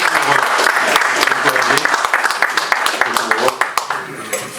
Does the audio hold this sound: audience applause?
yes